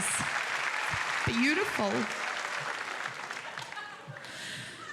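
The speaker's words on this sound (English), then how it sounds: "Ladies and gentlemen, give them a big round of applause." Audience applause at a love-and-marriage game show, steady and full throughout, with a voice speaking over it near the start.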